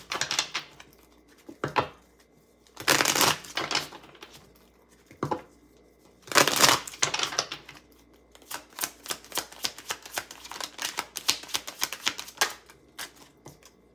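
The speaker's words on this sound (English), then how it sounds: "So let's see and clarify, okay, with the tarot," Tarot cards shuffled by hand in bursts of rustling, followed by a run of quick riffling flicks, close and fairly loud with no talking.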